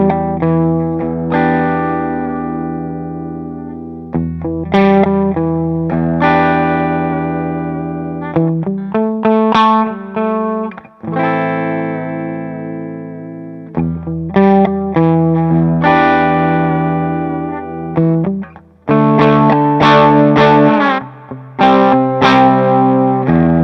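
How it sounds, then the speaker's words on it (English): A Gretsch G6120T-59 Vintage Select hollow-body electric guitar plays chords and riffs with a twangy, slightly driven tone and roomy echo, in bursts separated by short pauses. "you're gonna hear a Gretsch"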